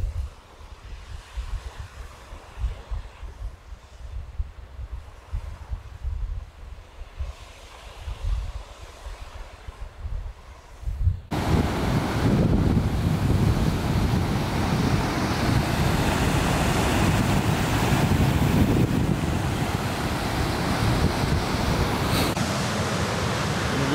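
A waterfall in Turkey roars in a steady, hissing rush, faint and distant at first, then abruptly much louder and close up at the foot of the falls for the rest.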